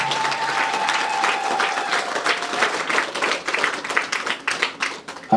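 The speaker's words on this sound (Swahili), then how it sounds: "Pigia Yesu makofi" A church congregation claps and applauds for Jesus after a mother's testimony of her child's healing through prayer, dense and steady throughout before swelling into louder, uneven bursts near the end.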